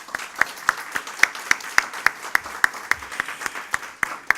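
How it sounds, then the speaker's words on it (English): Applause for a speaker at a formal talk, with one close pair of hands clapping in a sharp, steady, evenly spaced beat over a softer patter of other clapping in the room. "So let's give Mike Fernandez a big round of applause."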